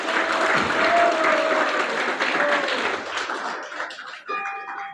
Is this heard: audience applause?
yes